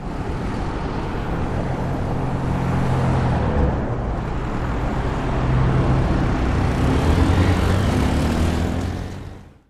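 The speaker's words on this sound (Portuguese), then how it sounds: "Escutamos os sons de uma rua como os gerados por carros, caminhões e motocicletas, próximo a um parque" Street traffic beside a park with cars, trucks and motorcycles, a loud continuous wash of engine and tyre noise that swells and eases over several seconds before fading out.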